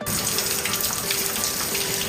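Water runs steadily from an outdoor shower at a resort hotel, a close, even splashing gush that stays constant throughout with no voices.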